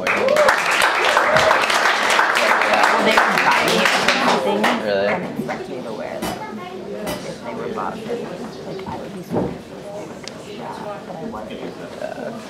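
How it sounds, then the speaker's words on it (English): Audience applause at a talent show, a dense round of clapping that fades after a few seconds into scattered claps under talk and murmuring. "let's have a big round of applause"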